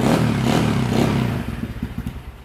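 A Kawasaki RFZ 150 / RXF 150 motorcycle engine turning over on the starter, a dense, rough engine rumble that settles after a second and a half into an uneven, pulsing idle, close by and with no talking.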